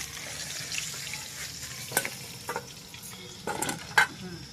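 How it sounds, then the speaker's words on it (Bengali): A fish head frying in a pan with salt and turmeric, a soft continuous sizzle broken by a few sharper bursts and clinks as it is turned over, close up with no talking. "মাছের মাথাটা উল্টে পাল্টে ভেজে নিলাম"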